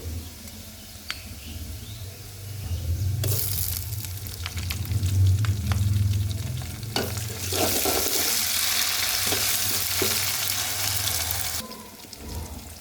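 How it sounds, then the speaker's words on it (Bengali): Onions frying in oil reused from frying potatoes, with extra oil added: a quiet start, then the sizzle swells loudly with clattering stirring before easing off at the end. "এখন পেঁয়াজ দিয়ে দিব আলু ভাজার তেলটাই দিয়ে দিছি এখানে আর একটু তেল অ্যাড করছি"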